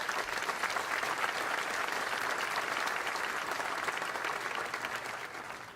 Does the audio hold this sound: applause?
yes